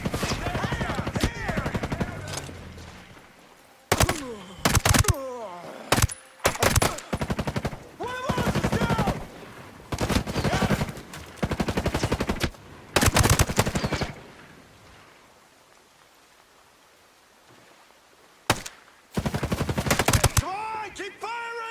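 Gunfire in Ghost Recon Breakpoint, with loud, sharp shots and quick volleys scattered unevenly through a firefight, mixed with game voices and other combat noise.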